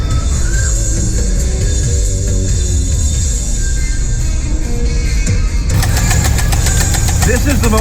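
A C5 Corvette Z06 engine runs close by at startup with a rough, uneven note. A rapid rhythmic ticking and rattling, an abnormal fault noise, grows louder partway through.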